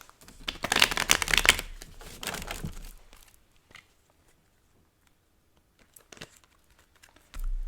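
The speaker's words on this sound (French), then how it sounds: "on va faire votre tirage" Tarot cards being shuffled for a reading, a dense burst of riffling and flicking for about three seconds, then near silence broken by a few faint card taps and a soft thump at the end.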